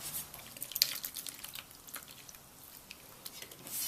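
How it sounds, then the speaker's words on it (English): Water is poured into two cups of flour to make dough for Tibetan sha momo steamed meat dumplings, a soft, steady splashing and trickling with a few small drips close by. "Now I'm going to add the water."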